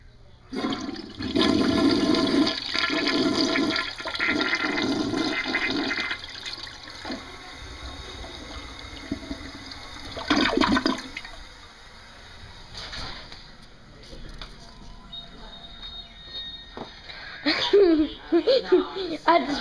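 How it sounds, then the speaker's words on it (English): A toilet flushes with a rushing swirl of water, and people talk and laugh nearby as the water drains and settles. "I just videoed the toilet flushing."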